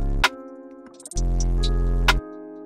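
A synth bass with tube distortion cranked all the way up plays a sustained low note with a gritty, buzzing edge, joined by brief bright clicks and hits.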